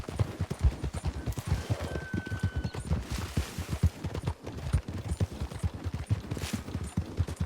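A horse gallops through a snowy winter endurance race in Red Dead Redemption 2, its hooves drumming a fast, steady rhythm close up and continuous throughout.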